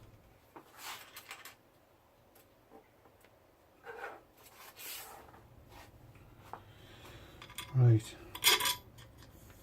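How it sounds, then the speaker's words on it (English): Small 3mm metal nuts, bolts and springs being fitted during a 3D printer build give off faint scattered clinks and rubs, then a louder metallic rattle near the end, with a brief spoken word. "these 3mm nuts are terrible to put on"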